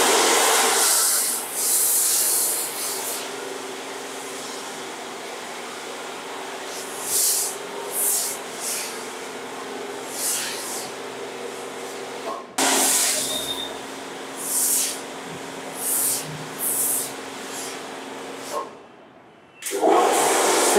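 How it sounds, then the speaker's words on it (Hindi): Foam wash sprayed from a pressure sprayer onto a car during a cleaning job, a steady broad hiss broken by a few short pauses and one longer gap, fairly close and alone without talk. "अब फॉर्म जो है स्प्रेड की जाएगी"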